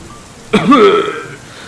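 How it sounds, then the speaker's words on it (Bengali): A single short, throaty cough from a cartoon character in a spooky animated tale sounds suddenly and loudly after a quiet moment, then a faint trailing rasp follows. "এমন সময় তুলসী কুঁড়ো খুক খুক করে কেশে বললেন"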